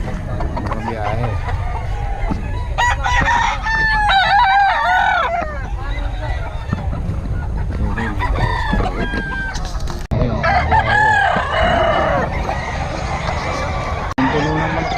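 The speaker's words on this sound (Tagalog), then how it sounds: "Ang puno ng manok dito ngayon mga boss" Chickens and roosters fill a crowded place, crowing repeatedly and clucking near and far, with people talking underneath the birds.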